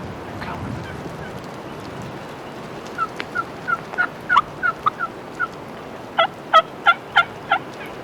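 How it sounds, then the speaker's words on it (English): A wild turkey gobbles in wet woods during rain, a run of rapid, sharp gobbling notes in two bursts over a soft steady hiss of rainfall, moderately distant. "Is that him or is the turkey that's gobbling him?"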